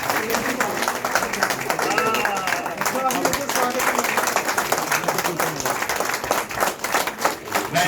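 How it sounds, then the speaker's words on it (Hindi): A crowd at a political event claps loudly and steadily to welcome a politician, a former MLA and senior Congress leader joining the BJP. The applause is dense and sustained, with a few cheers and voices mixed in. "जोरदार तालियों से इनका स्वागत किया जाए।"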